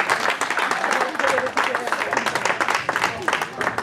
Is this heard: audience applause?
yes